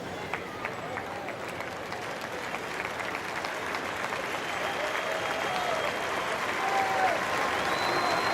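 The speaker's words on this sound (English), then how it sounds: "you see the Oklahoma fans applauding, but the Baylor fans are applauding as well" A college football stadium crowd applauds in a sustained, dense wash of clapping that gradually swells, heard at a distance with a faint commentator's voice in the background.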